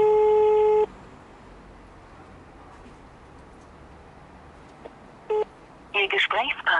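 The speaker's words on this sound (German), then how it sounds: "Wir rufen jetzt kurz mal noch das Murph an." Telephone call sounds: a loud, steady tone opens the call, then brief dialing tones follow later, with a run of rapid beeps near the end, over a quiet room-like background.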